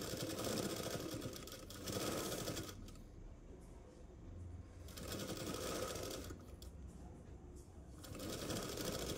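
A sewing machine stitches dress cloth in bursts, a fast mechanical whirring that runs, pauses near three and eight seconds, then resumes, close and steady.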